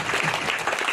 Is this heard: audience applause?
yes